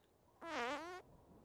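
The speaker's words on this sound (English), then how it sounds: "Did you just fart?" A single short, tonal cartoon fart, about half a second long, slightly wavering in pitch against a quiet background.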